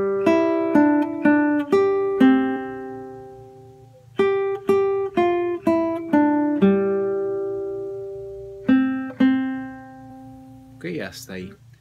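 Acoustic guitar plucks the sung melody of a song as clear single notes in a steady phrase, each ringing briefly, with a short pause midway and a faint noise at the end.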